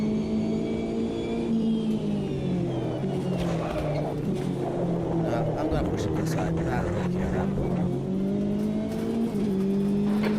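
Race car engines in the Automobilista 2 racing game hold a steady, loud drone with shifting pitch as the cars battle for position, while someone talks over the top throughout.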